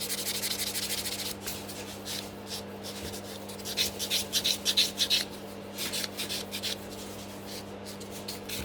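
A nail file rubs back and forth over gel nail tips in close, steady strokes, with a quicker burst of rhythmic filing in the middle.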